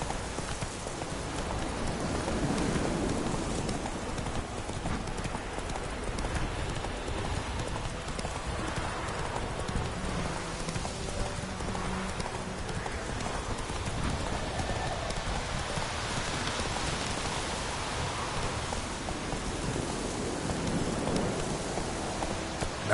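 Steady clip-clop of a horse's hooves, Roach in The Witcher 3, moving through steady rain with occasional distant thunder rumbling underneath; the hoofbeats stay fairly close and continuous throughout.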